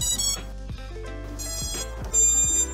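Electronic beeps and tonal chimes from an FPV drone's electronics as a 6S LiPo is connected on a 5-inch build, a series of clear melodic tones ringing close and alone.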